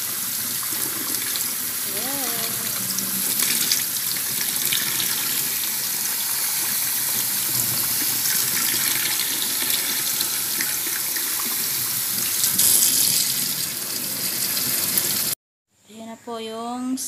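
A faucet runs steadily, water splashing into a sink for a long stretch while sago is rinsed, with a brief voice early on, then the flow cuts off.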